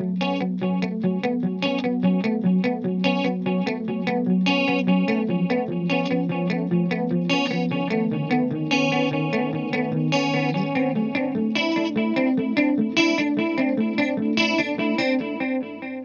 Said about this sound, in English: Just going to dial back the chorus a fraction now and add some delay in.